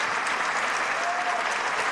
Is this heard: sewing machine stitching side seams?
no